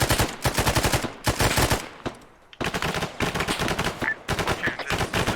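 Sustained automatic gunfire from the Arma 3 military game, loud and close, with rapid bursts broken by a short lull before firing resumes in dense volleys.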